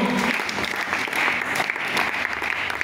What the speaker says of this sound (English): You can clap for the Lord.